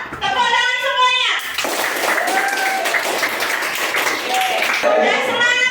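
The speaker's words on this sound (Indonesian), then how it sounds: "Tepuk tangan semuanya" A class of children clapping hands together in applause, a loud, fast patter of many small hands, with children's voices and a teacher's voice heard over and around it.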